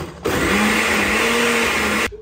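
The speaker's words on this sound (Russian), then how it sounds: "Помещаем их в блендер. Добавляю сюда моцареллу. Можно буррату, моцарелла дешевле. По вкусу то же самое. И мы все взбиваем до однородной массы." A kitchen blender whirs steadily at full power for about two seconds, puréeing tomatoes and mozzarella into a smooth pasta sauce, loud and close with an abrupt start and stop.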